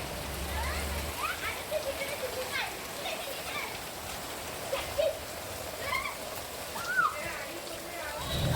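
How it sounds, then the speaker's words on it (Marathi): The season's first light rain patters steadily in the background in a village while voices talk and call out intermittently over it. "मी नुकताच गावी आलो आणि पाऊस सुरू झालेला आहे"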